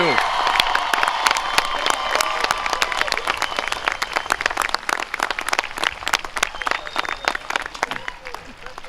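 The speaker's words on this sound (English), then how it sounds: "how about one more round of applause" A large crowd at a high school graduation ceremony applauds steadily with dense clapping, scattered cheers and whoops rising over it, sustained throughout at a moderate distance.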